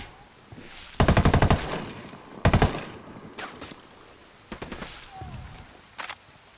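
Bursts of automatic gunfire in the Ghost Recon video game are aimed at rocks. Two loud, rapid volleys are followed by quieter shots and short bursts, and no voices are heard.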